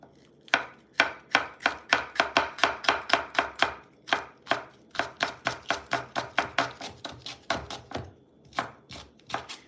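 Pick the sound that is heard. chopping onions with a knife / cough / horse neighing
chopping onions with a knife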